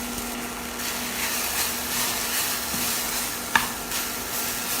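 Black sesame seeds roasting in a pan over low to medium heat, a steady dry crackling sizzle with continuous stirring scrapes, one sharp tick partway through, no talking.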